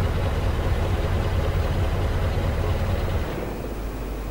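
A truck engine idles in a stalled motorway traffic jam in Euro Truck Simulator 2, a loud, steady low rumble that runs unbroken before dropping to a softer hum near the end as the engine winds down.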